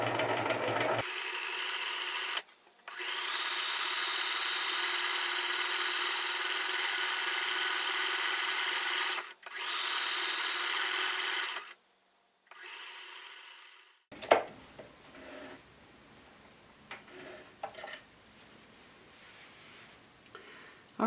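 A sewing machine stitches pintucks filled with pearl cotton in long, steady, close whirring runs with brief stops, followed by quieter handling and rustling of fabric.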